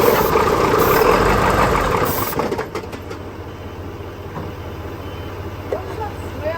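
A truck engine, just started on gas, runs loud and rough for about two seconds, then drops to a steadier, quieter idle that rumbles on close by.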